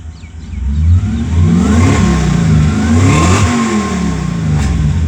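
A Toyota 1UZ V8 swapped into a two-wheel-drive Hilux pickup ute on Megasquirt engine management revs up and down for several seconds, a loud, close, continuous engine roar with no talking.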